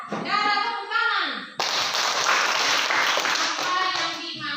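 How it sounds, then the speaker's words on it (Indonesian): A class of students clapping hands together in a classroom, a dense burst of claps lasting several seconds that follows brief speech, close and fairly loud. "Tepuk tangan."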